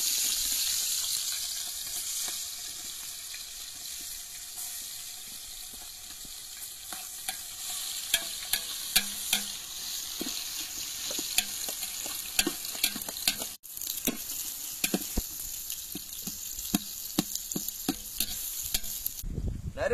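Chopped onions fry in groundnut oil with bay leaf and cinnamon, a constant hiss of sizzling oil broken by frequent sharp crackles and stirring scrapes that grow busier over time.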